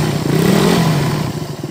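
A Suzuki Satria F150 carburetor engine runs close by with a rough, clattery idle and a noisy cam chain ticking under the engine note.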